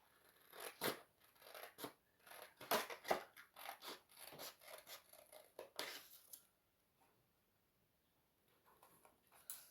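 Scissors cutting paper for an album page, a run of crisp, quick snips and crunches at close range, then the cutting stops and near-silence follows.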